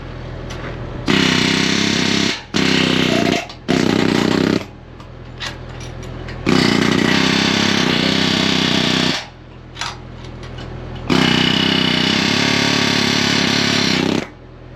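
Arc gouging and torch cutting steel on a John Deere 450G dozer blade during a center joint rebuild: loud, harsh roaring crackle in long bursts broken by brief pauses, close and dominant with no talk.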